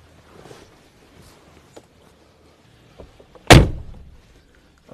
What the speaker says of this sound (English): So we'll just open the door. And of course a beautiful sound when closing.